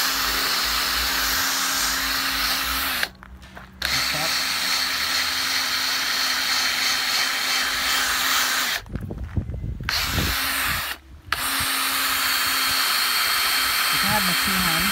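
A power drill whirs steadily at close range, cutting out briefly three times before spinning up again, with a faint voice underneath.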